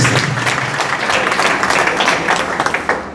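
A church congregation applauds during a prophecy service, a steady, dense wash of many hands clapping close by that holds for the whole few seconds.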